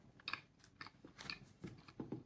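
Soft bites and chewing of a homemade coffee walnut cupcake, a few close crunchy bites spaced out with quiet mouth sounds in between, faint and without talk.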